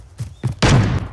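Gunfire in a battle royale video game rings out as a couple of short muffled shots followed by one louder, sustained blast, close and punchy over about a second.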